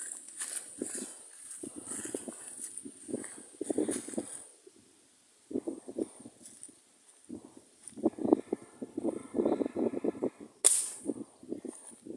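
A single sharp gunshot fired while hunting outdoors, cracking near the end after stretches of people talking and faint movement, with a steady high insect-like whine in the background.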